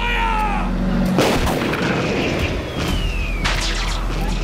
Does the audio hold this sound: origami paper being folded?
no